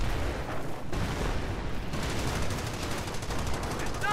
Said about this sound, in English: Incoming enemy fire! The manor is taking heavy fire.